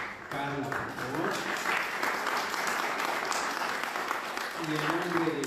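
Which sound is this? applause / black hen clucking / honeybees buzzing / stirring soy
applause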